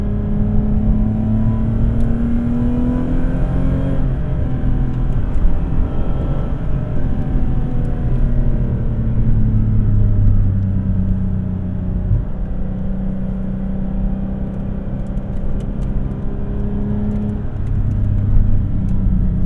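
A 2006 Lexus IS350 engine accelerating while driving in manual mode, a loud steady rumble from inside the cabin with the engine note climbing through the gears, and no one talking.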